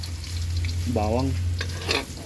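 Garlic frying in a hot pan, a continuous close sizzle with stirring scrapes, a brief voice heard over the frying.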